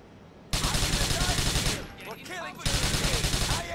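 Automatic gunfire in Grand Theft Auto 4, loud close rapid bursts with a rhythmic pulse, a brief lull with faint voices or squeals, then another sustained burst.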